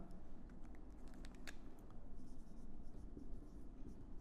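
Chalk or marker writing equations on a board, heard as soft, faint scratching and tapping strokes over a low background hum.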